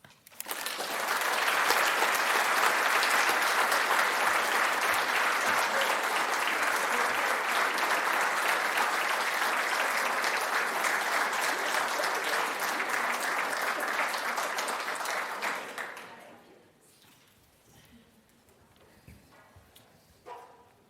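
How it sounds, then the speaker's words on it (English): Audience at an awards ceremony bursting into sustained loud applause, dense even clapping holding for about fifteen seconds before tapering off to scattered claps and room quiet. "Let's give one more round of applause for Doug and the connections he makes"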